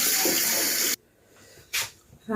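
Running tap water splashes loudly while a face is washed at a sink, then cuts off abruptly, followed by a short later burst of water and faint handling sounds.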